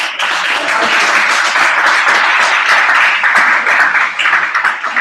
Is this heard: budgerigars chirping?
no